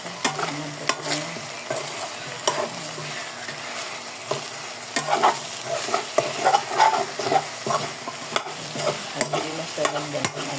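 Chicken pieces fry in their own rendered fat for adobo, a close, continuous sizzle broken by frequent spatula scrapes and stirring knocks against the pan.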